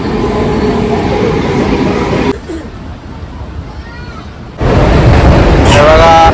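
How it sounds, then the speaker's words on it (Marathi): Train arriving at a station on the Dahanu Road line, a loud rumbling rush of rail noise that dips briefly, then swells again with a squealing brake whine, with people talking nearby. "ट्रेन आलेली आहे बघा आपली."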